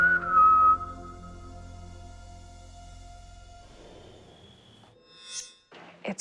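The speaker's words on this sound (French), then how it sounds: "On a entendu le sifflement. dont Joe nous a parlé." Whistling heard during a paranormal investigation: a clear, sustained whistled tone with a slight pitch shift opens the clip, then fades into a low hum, followed near the end by a brief noisy burst and a few sharp knocks.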